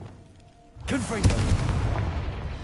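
A Confringo spell bursts in Hogwarts Legacy, a sudden loud blast that rolls into rumbling debris after a quiet lead-in. A voice is heard briefly.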